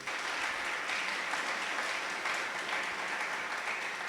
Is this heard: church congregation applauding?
yes